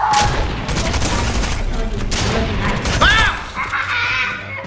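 Video game gunfire, a dense, continuous burst of shots and booms mixed with game effects, loud and close, with a player talking over it.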